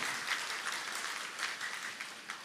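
Sustained audience applause at a Tamil poetry award ceremony, a steady dense wash of clapping that swells slightly in spots, with no speech over it.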